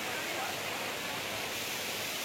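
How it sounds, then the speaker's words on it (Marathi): Water streaming down the steps at Bhaje waterfall, Mini Bhushi Dam, a steady broad hiss of flowing water, even and continuous, with no break or distinct splashes. "इकडे पायऱ्यांवरून पाणी वाहत आहे"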